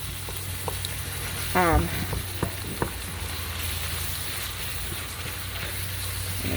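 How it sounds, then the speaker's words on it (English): Meat for vegetable beef soup sizzles and fries steadily in a pan, and a few sharp clinks of a utensil scraping and stirring stand out over the quiet frying. "I'm just gonna continue to cook the meat until it's completely cooked, no pink"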